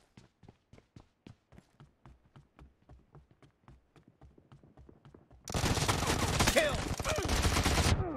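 Gunfire in the video game PUBG, played on an emulator: a steady run of sharp single shots fires at an even pace, then gives way to a loud, dense, continuous burst of shooting that fills the rest of the clip.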